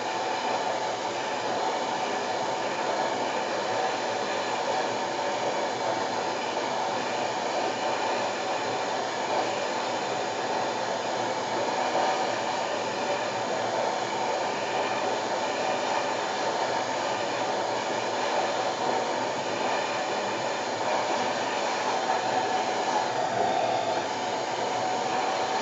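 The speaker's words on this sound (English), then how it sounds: "Now I'm going to turn on my louder, more robust heat tool to really get this dry." A loud, robust heat tool blows steadily for the whole stretch, drying both sides of upcycled bar coasters with a constant, close whooshing roar and no talk.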